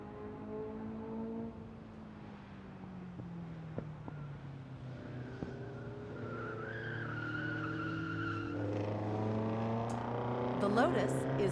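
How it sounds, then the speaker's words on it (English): A Lotus race car drives on a track, its engine a continuous mid-distance drone that slowly falls and then rises in pitch, with a narrator talking over it throughout. "Lotus is followed on the track by a Porsche, then a Corvette, then another Porsche."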